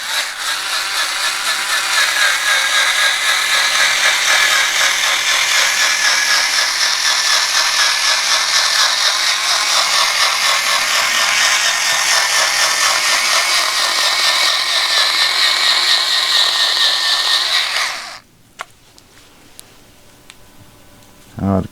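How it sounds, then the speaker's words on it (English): A small handheld power cutting tool slices through boat carpet on a Ranger fiberglass lid, a loud, continuous buzzing whir that runs for about eighteen seconds, then stops abruptly. "I'm going to see if my little cutting tool will cut this carpet."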